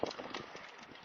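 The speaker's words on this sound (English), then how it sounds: "I can hear cows moving" Cows walking on a farm in New Zealand give off a soft series of hoof clops and shuffles, faint and fairly close, with a little low background noise.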